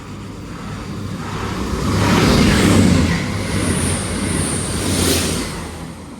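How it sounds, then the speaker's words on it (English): Class 323 electric train 323209 pulls out of Poynton station toward Manchester Piccadilly, a steady rolling rumble with wind-like hiss that swells, eases, then surges again, joined by a faint high whine. "323209 heading off to Manchester Piccadilly."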